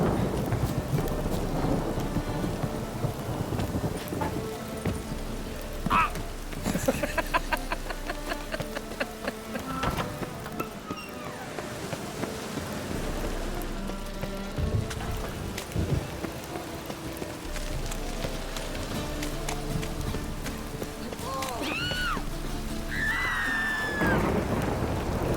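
Steady rain pours in The Witcher 3 while deep thunder rolls and rumbles at intervals, a continuous stormy wash with occasional faint whistling tones and no speech.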